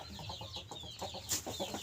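Chickens from a backyard flock of roosters and hens cluck in a steady run of soft repeated clucks, close by, with a brief sharper squawk partway through over a busy rural background.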